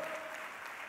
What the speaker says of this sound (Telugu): చప్పట్లు కూడా దేవుని మహిమపరచండి.